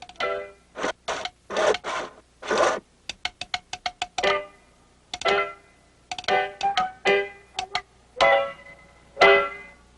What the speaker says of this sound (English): Paddington had never actually sawn anything in two before, and he soon discovered it wasn't as easy as it looked.